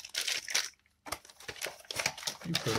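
Plastic bag crinkling and rustling as a freshly greased bearing is slipped inside, close and fairly loud in bursts with a short quiet gap, no talk over it.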